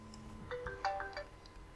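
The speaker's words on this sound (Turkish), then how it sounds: "kusura bakmayın telefon çaldı videoyu kesmek zorunda kaldım" A telephone rings with a short burst of electronic tones, fairly close and moderately loud, breaking into an otherwise quiet room.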